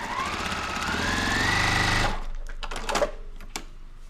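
Sewing machine running steadily for about two seconds while stitching a scant quarter-inch quilt seam, loud and continuous, then stopping, followed by a few soft handling clicks and taps.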